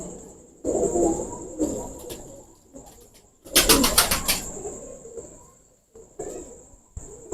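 Pigeons coo in low, throaty bursts, close by and repeated, with a loud flurry of wing flaps in the middle and brief quiet gaps.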